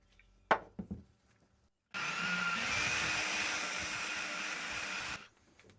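A few sharp knocks, then a drill spinning an engine valve whirs steadily for about three seconds with a grinding, spinning hum before stopping abruptly; cylinder head of a 1983 Honda CB1100F DOHC motorcycle engine.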